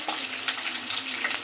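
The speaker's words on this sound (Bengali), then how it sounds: "এটাকে ভালো করে ভেজে নিচ্ছি" Onion, green chili and a little garlic frying in oil in a pan: a close, continuous crackling sizzle with small irregular pops and no voices.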